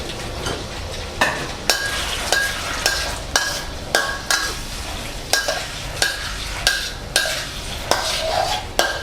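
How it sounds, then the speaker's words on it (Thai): Bell peppers and chicken breast stir-fried in a pan with chilli paste sauce, a spatula scraping and clacking at regular intervals over a continuous sizzle, close and fairly loud. "ผัด สักครู่ให้ผัก สลดนะครับ"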